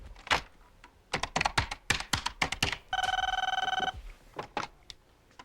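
An old-style telephone bell rings in a single sharp, continuous burst of about a second, surrounded by brisk clacking and tapping sounds before and after.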